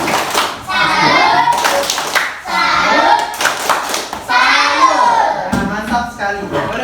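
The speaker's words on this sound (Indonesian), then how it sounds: "Jadi kita beri tepuk salut dulu untuk kelompok 2." Classroom of young pupils in an Indonesian primary school doing a rhythmic salute clap in unison, bursts of synchronized hand claps with brief pauses between phrases, loud and close, mixed with children's voices chanting.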